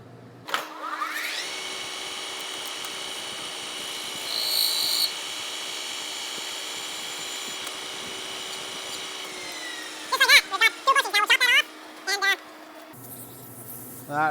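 A metal lathe in a shop runs its finishing pass on a part, a steady whining machine drone with high tonal squeals that rises toward the end, then bursts of chattering, screeching cutting noise before the motor note drops.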